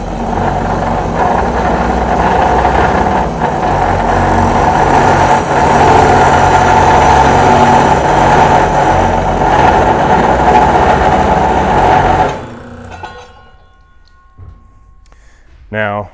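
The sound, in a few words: Dake Super Cut 315 manual cold saw cutting tubing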